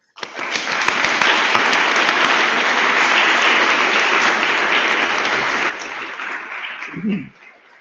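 An audience in a lecture hall welcomes a speaker with loud, steady applause from many hands, holding strong for several seconds before thinning out and fading, followed by a brief voice.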